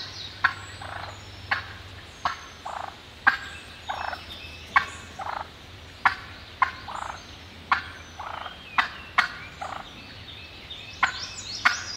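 Wild turkeys gobbling in spring hunting season, several sharp rattling gobble bursts about every second, some close and loud, others answering fainter, over a quiet outdoor hum.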